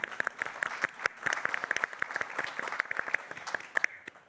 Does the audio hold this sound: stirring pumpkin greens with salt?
no